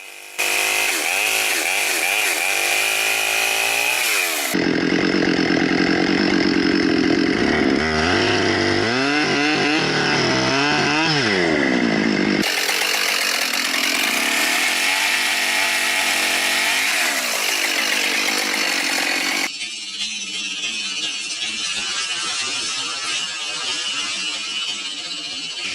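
Chainsaw cutting through a tree, a loud continuous high-revving whine with shifting pitch as the blade bites and frees, sustained throughout at close range.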